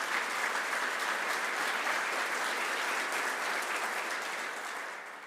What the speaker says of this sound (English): Let's give each of these forum supporters a round of applause.